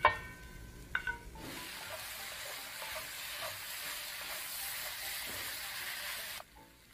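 A few sharp clanks are followed by a loud, steady sizzle as vegetables are stir-fried with eggplant and pork, hissing continuously for several seconds before abruptly cutting off.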